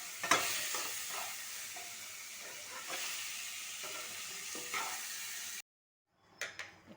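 Tomatoes frying in a pan with onion, ginger and garlic, a steady sizzling hiss broken by scraping stirs, then a brief silence before a few more sharp stirring scrapes.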